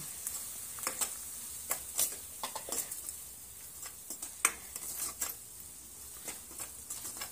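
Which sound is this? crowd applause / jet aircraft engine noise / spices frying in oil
spices frying in oil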